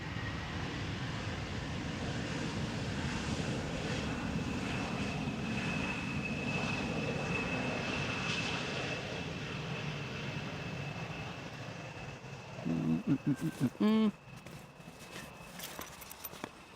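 A KLM Embraer 175 jet arriving at Amsterdam Schiphol Airport makes a steady, distant engine roar and whine, joined near the end by a brief burst of closer clattering sounds.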